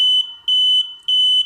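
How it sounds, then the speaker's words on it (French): An electronic buzzer beeps three times in quick succession, each a loud, steady, shrill tone with short gaps between, close and alone. "Voilà, ça c'est un buzzer."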